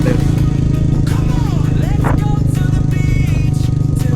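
A dual-sport scooter engine hums steadily over a bumpy off-road surface with occasional rattles and scrapes while a person talks over the ride, near Lian, Batangas.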